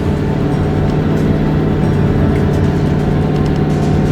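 A hotshot pickup truck's engine drones loud and steady from inside the cab as the driver drops a gear and the tires lose traction, a dense continuous rumble with no clear break.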